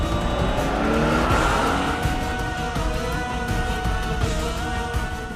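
A car speeds along with its tires squealing and skidding, loud and sustained over a constant engine roar, with no voices.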